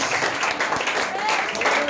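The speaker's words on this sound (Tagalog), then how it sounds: "Yung palakpak" A congregation at a worship service applauds in a steady, continuous round of clapping, with a voice speaking over it throughout.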